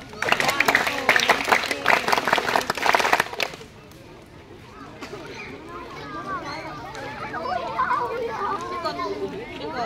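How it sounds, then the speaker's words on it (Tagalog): A crowd of children at a kid and cub scout camp claps in a burst of applause for a few seconds, then settles into lively background chatter and kids' voices. "A round of applause."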